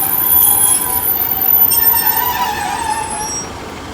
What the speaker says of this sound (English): going out now will be the Great Western Railway service to Payton